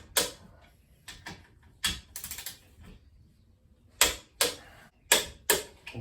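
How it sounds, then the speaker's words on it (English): Sharp clicks from a torque wrench tightening crankshaft bolts on a Ford 300 inline-six engine rebuild, a few separate clicks with quiet gaps and a light mechanical rattle between them, close by. "So that click means that we hit the proper torque."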